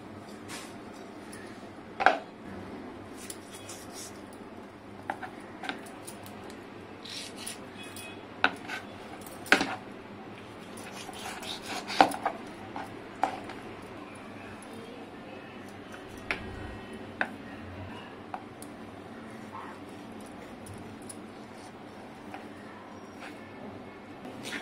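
A knife cuts and cleans a pomfret fish on a board. Scattered sharp taps and scraping clicks sound close but quiet, irregular over a low hush, with no talk.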